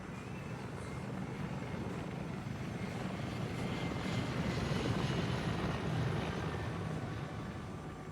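A Mi-24 attack helicopter in the military game Arma 3 keeps up a continuous rotor and engine drone, loud and steady. It swells slightly toward the middle and there is no talking.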